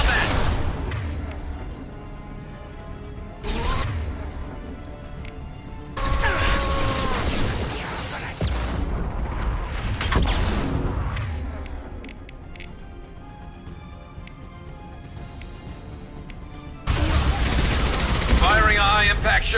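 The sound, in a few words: high-impact weapon shot and gunfire in video game Mass Effect 2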